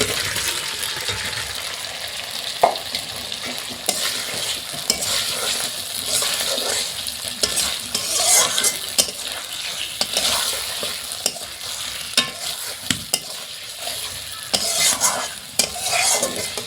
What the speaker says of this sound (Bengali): হালকা একটু কষিয়ে নেব